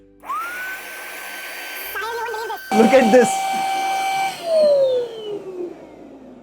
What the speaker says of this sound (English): we'll come back with a vacuum cleaner for this